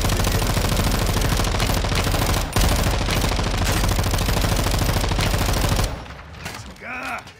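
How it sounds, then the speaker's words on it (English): Sustained machine-gun fire rattles loudly and continuously in a Call of Duty MW2 campaign mission, then breaks off into quieter game sounds at the end. "Can I open fire? I'm opening fire."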